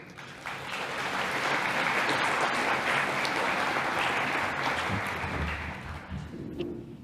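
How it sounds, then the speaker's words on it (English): Audience at the National Catchments Forum 2022 applauding speaker Quinton Tunoho of Puniu River Care, a full sustained round of clapping that swells, holds steadily, then thins out near the end. "I'm wondering if you can give him a big round of applause"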